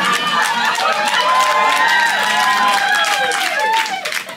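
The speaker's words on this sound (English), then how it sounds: "Strange thing to clap for, but all right." A stand-up comedy audience claps and cheers together for several seconds, with whoops and shouts over dense clapping that fades slightly at the end.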